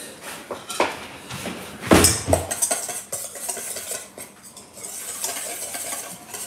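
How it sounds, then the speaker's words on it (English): A metal whisk beats a mayonnaise-style sauce with squeezed lemon in a bowl, meant for bison tartare. Quick clinking and scraping strokes ring close, with a sharp cluster of hits near the middle and steadier whisking after it. "I'm gonna get a whisk here, and we are going to whisk this up really quick."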